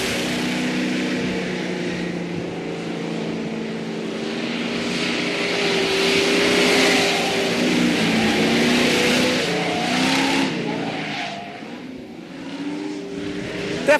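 A Ford Mustang Boss 429 weaving through a pylon slalom, its V8 swelling and easing as the throttle rises and falls, loud and fairly near throughout, with no voices.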